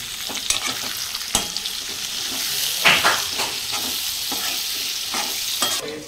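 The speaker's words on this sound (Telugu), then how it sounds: "ఇక ఇప్పుడైతే క్యాప్సికమ్ ముక్కలు వేసుకుందాం." Onion and capsicum pieces frying in a pan with turmeric while being stirred, a steady sizzle broken by scraping stir strokes and a few sharper clinks, fairly close and with no talking.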